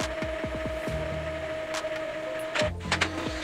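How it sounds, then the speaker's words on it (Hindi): An Epson L3150 inkjet printer runs off a network information page, giving a steady mechanical hum with a tonal whine and a few clicking, whirring feed and carriage movements, close by with no talking. "प्रिंटर में से प्रिंट बाहर आ रहा है, जो नेटवर्क की इन्फॉर्मेशन है वो यहाँ पे प्रिंट होकर आ रही है"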